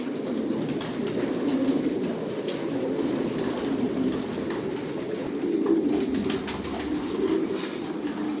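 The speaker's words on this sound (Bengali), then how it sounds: "এখানে যে কবুতরগুলো দেখাচ্ছে এগুলো মাস্টার পেয়ার, রানিং পেয়ার" Racing pigeons in a loft coo in soft, overlapping low murmurs that repeat steadily at moderate distance, with a faint rumble beneath.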